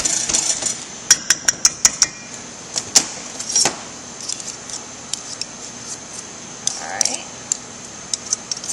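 A pastry cutter or knives cutting butter and shortening into flour by hand, giving sharp, quick clicks and scraping taps in an irregular rhythm close by, with a voice talking in the background.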